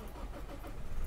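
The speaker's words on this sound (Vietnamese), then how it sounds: "nổ máy cho quý anh chị mình nghe tiếng nổ của động cơ nha" A 2019 Toyota Fortuner diesel SUV with a six-speed automatic starts up, its engine catching into a low, steady rumble at close range, brief and alone without talk.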